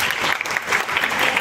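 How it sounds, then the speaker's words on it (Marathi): Students clapping together in a school career guidance session, a dense burst of applause from a group in a room, close and loud for about a second and a half. "टाळ्या वाजवा त्याच्यासाठी."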